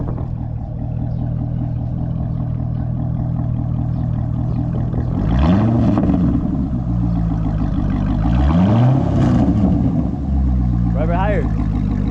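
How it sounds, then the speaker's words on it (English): A C6 Corvette engine with long-tube headers idles loudly and rumbling, then revs up twice in quick surges with a throaty exhaust note before settling back, with a voice briefly audible near the end. "Hey, rev it real quick."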